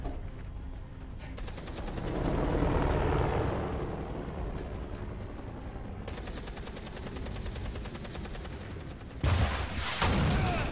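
Sustained bursts of rapid automatic gunfire in the video game Beyond Two Souls, crackling continuously at moderate distance with brief gaps and a sharper, louder volley near the end.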